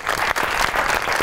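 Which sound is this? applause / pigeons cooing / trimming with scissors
applause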